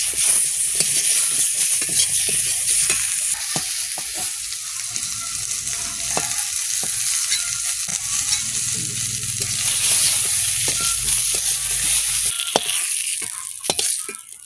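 Vegetables frying in a little oil in a home kitchen pan, a continuous close sizzle with occasional stirring clicks and scrapes, loud and steady throughout with no voices.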